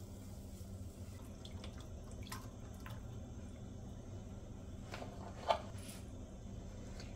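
Chicken broth is poured into a tomato and red bell pepper soup, making a faint, steady liquid wash over low background noise with one small splash near the end.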